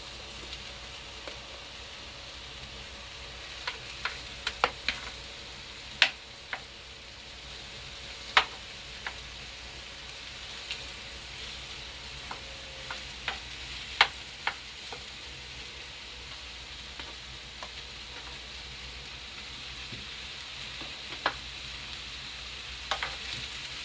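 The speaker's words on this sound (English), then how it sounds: "And just saute them a little bit." Mushrooms sauté in a pan with a soft, steady background sizzle, broken by scattered sharp ticks and clicks of a utensil against the pan.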